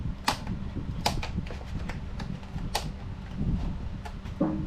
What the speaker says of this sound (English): So that's where the Dremel comes into play.